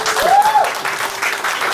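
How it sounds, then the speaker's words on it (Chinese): An audience claps at a bodybuilding contest in the 70 kg class free-posing round, a short burst of loud, dense applause in a hall, with a voice briefly heard over it. "没有音乐给一点掌声吗？"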